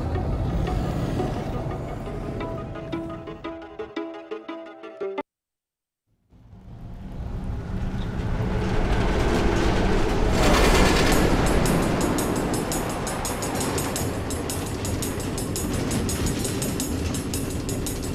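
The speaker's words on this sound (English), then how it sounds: "Automated train tracks running all through the nether?" A minecart train rumbles along automated tracks through the Nether in Minecraft: Story Mode, with a long, loud, steady rolling clatter broken by a brief silent gap before the rumble resumes and swells.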